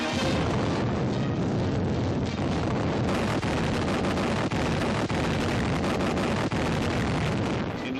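Naval gun salvos and explosions from a WW2 US Navy newsreel: a loud, sustained roar of booming blasts and rumbling detonations, with sharp reports repeating through the whole stretch.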